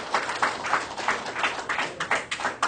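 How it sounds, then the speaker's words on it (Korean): Audience at a religious training lecture clapping steadily, a brisk run of close-packed claps at moderate volume that keeps going throughout. "박수를 부탁드리겠습니다"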